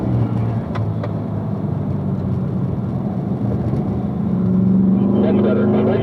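A car on a racing track eases off the throttle and brakes, the engine note steady and droning, then shifting into a rising whine near the end while an instructor's voice talks over it.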